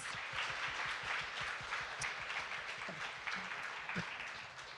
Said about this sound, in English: Ladies, please give Ashley a big round of applause.